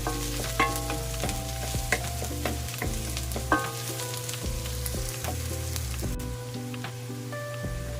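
Garlic, ginger and onion sauté in a pan for creamy sopas, sizzling steadily with repeated stirring clinks and scrapes, close and continuous, with a low hum underneath.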